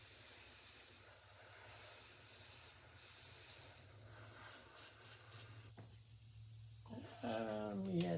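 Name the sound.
airbrush spraying paint onto a wooden lure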